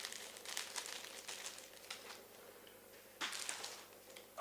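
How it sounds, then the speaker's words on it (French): Tamiya RC rally tyres for a Lancia Delta Intégrale XV-01 model are unwrapped from plastic packaging, making quiet, close crinkling and rustling in short bursts, with a sharper crackle near the end. "on va déballer les pneus qui sont donc des versions rallye"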